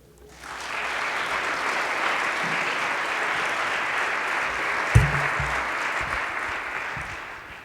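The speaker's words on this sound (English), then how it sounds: "Please give a round of applause for Professor Ingram" A college chapel audience gives steady, full applause for Professor Ingram before her talk, a sustained wash of clapping from many hands lasting several seconds with one sharp knock midway.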